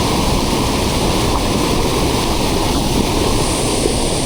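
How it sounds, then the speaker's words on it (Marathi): A torrential village stream in the Konkan swollen by monsoon rain rushes loudly and continuously, a dense broadband roar of water close by with no voices. "एकदम तुफान पाणी आहे बघा."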